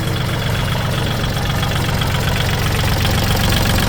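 A used 2018 Kubota L4018DT tractor engine idles close by with a steady, even diesel clatter and rumble, constant in loudness throughout, with no talking.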